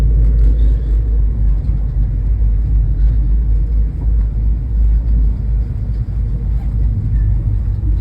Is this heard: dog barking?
no